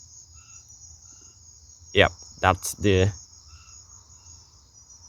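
Polka dot tree frogs in Trinidad and Tobago keep up a steady, high rattling chorus in the background, with a man's brief speech over it.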